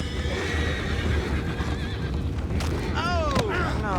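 Horses neighing in the Western video game Red Dead Redemption, loud whinnies with descending pitch near the end, over steady hoof clip-clop and ambient game noise.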